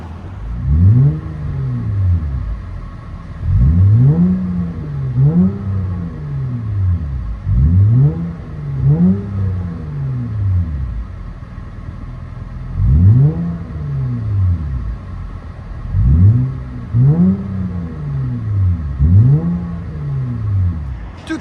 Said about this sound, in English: That DYNOMAX sounds good on it.